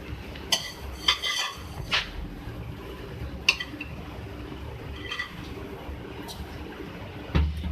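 Sheer khurma being stirred after fried vermicelli, pistachios, almonds and raisins go in, with a spoon scraping and clinking against the pot in scattered light taps close by.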